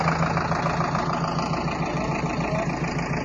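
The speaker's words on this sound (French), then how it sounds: "avec un Zetor, et oui, nous aussi en France on a du Zetor, donc un tracteur récent, voire neuf" A recent, nearly new Zetor tractor idles steadily and close by with an even, low mechanical drone, alone with no talking.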